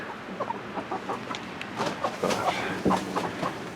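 Chickens cluck inside a coop, with soft overlapping clucks and low calls throughout, a few louder notes near the end, close by and moderately loud.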